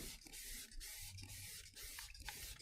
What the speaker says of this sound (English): I want to spray some sort of glue remover on it